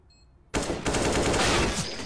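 Rapid automatic gunfire in Counter-Strike: Global Offensive bursts in loudly after a moment of near silence and continues as a dense rattling volley.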